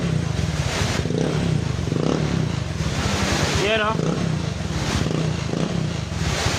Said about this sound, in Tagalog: Subukan natin i-start yung ating motor.